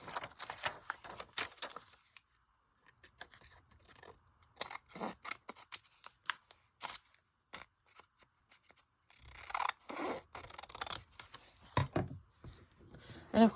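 Scissors trim glued paper for a handmade pocket page, a series of crisp snips and rustles coming in close bursts with quiet pauses between them.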